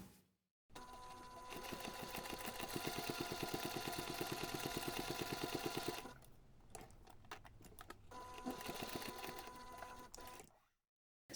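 A sewing machine stitches the bottom edge of a zipper pocket on a bag lining, running in a steady rapid whir for several seconds, then pausing and starting again in shorter bursts, close and fairly quiet.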